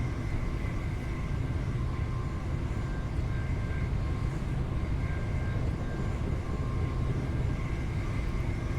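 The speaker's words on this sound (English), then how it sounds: "at the AP 377, not a train that I drive a whole lot of" Class 377 electric multiple unit running on the Brighton to London Victoria line in Train Sim 2021, a steady continuous rumble with faint whining motor tones held throughout, loud and unbroken with no talk.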